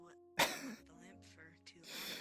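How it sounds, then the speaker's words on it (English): A single sharp, close cough or throat-clear bursts out, followed by quieter breathy vocal sounds, during a casual online roleplay chat. "I needed to cough."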